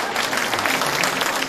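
Warm, dense applause from an audience at a Fo Guang Shan Buddhist community talk event, a continuous wash of many hands clapping together, close and fairly loud throughout.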